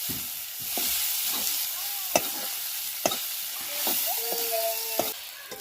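Mutke frying in a pan with garlic and cumin, stirred with sharp scraping clacks of a spatula against the pan over a constant crackling sizzle, a few distinct knocks spaced through.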